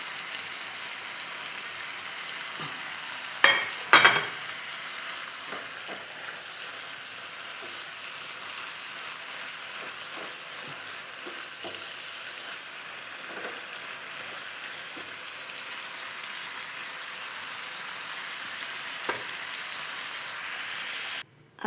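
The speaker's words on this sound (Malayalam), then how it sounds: "അപ്പോൾ ഇതാ റെഡിയാക്കി വെച്ച മുട്ടേനെ ഇതിൻ്റെ അകത്തേക്ക് ഇട്ട് കൊടുക്കുന്നത്" Eggs dropped into masala frying in a pan for egg biryani, giving a steady faint sizzle with a couple of sharp knocks early on and occasional light clicks, close and without talk.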